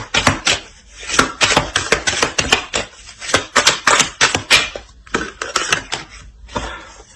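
A deck of cards being shuffled by hand, rapid crisp riffles and taps in quick irregular bursts, close and loud, with a short pause before the shuffling resumes.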